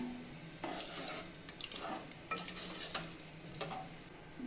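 A spoon stirs chicken rassa curry masala with tomato and salt in a pan, making soft scraping strokes and light clinks over a low, steady sizzle.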